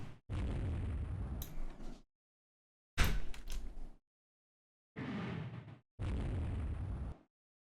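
Shell impacts striking a ship's turret during a Rule the Waves 3 naval battle, heard as four loud, booming bursts separated by short silences, each a broad rumbling explosion that cuts off abruptly.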